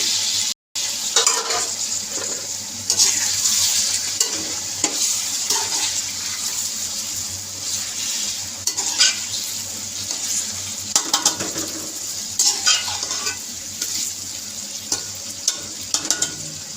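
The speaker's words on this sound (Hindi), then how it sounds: "प्याज लाइट ब्राउन हो गए हैं, तो साथ ही मैं चिकन डाल देती हूँ, वो भी साथ फ्राई हो जाएगा।" Chicken pieces frying in a pan with light-browned onions for a bitter gourd and meat curry, a steady close sizzle with scraping stirs and brief bursts throughout, no talking.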